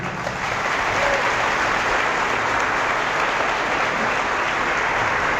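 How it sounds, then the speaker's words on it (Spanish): A church audience gives a pastor sustained, dense applause, a steady wash of many hands clapping together without pause, loud and close throughout. "Un aplauso para él."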